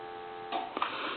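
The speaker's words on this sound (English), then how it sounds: "And there's your dial tone." A steady telephone dial tone hums from a novelty animated telephone after its handset is lifted during a repair checkout, broken briefly by a couple of clicks partway through.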